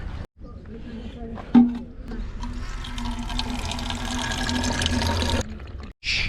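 Water runs and gurgles into a container outdoors while wild camping, a steady rushing trickle lasting a few seconds, with a person speaking briefly at the start.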